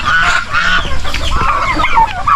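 Chickens and turkeys mixed together on a backyard farm, steady overlapping clucks and honking calls close by, continuous and busy with no talk.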